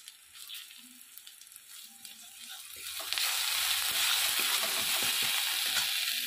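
Spices and asafoetida fry in hot oil for a vegetarian Bengali banana flower curry, a soft sizzle with light stirring scrapes that swells into a loud, steady crackling hiss halfway through.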